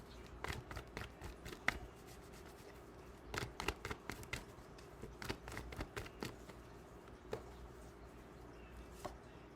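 Tarot cards are shuffled by hand, close and quiet, in repeated bursts of crisp riffling and flicking with short pauses between.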